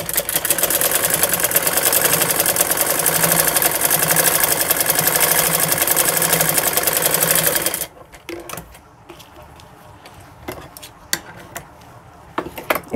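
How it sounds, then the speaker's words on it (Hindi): A sewing machine stitches palazzo trouser fabric over an earlier seam in a steady, fast mechanical whir for about eight seconds, then stops. Sparse clicks and handling sounds follow. "जहाँ पर हमने ये सिलाई लगाई है उसी सिलाई के ऊपर हम अपनी सिलाई को लगाएंगे।"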